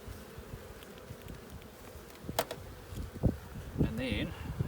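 Bees buzzing inside an open beehive, a continuous low hum with occasional louder passes, plus some handling knocks near the end.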